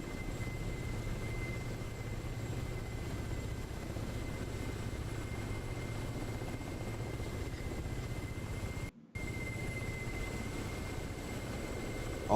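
A Ka-50 helicopter flies in a video game race, its steady rotor and engine drone holding at an even level throughout, broken only by a brief dropout near the end.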